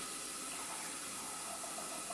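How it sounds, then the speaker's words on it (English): Hot water from a just-boiled kettle poured into a measuring cup while making curried couscous, a steady broadband rush of liquid heard alone and without pause. "I'm going to do a half a cup of water. And my kettle was boiling, so I'm just going to use that."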